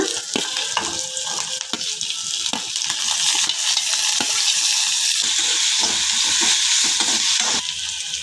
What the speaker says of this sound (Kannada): ಸ್ವಲ್ಪ ಈರುಳ್ಳಿ ಬ್ರೌನ್ ಕಲರ್ ಬರುವಾಗೆ ಹುರ್ಕೊಳ್ಳೋಣ ಟೊಮೆಟೊ ಹಾಕ್ಕೊಳ್ಳೋಣ